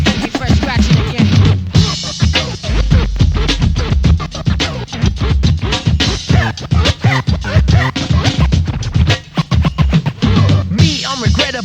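Turntable scratching by a hip-hop DJ on a 1988 record, with loud, dense chirping cuts riding over a steady drum beat the whole way through.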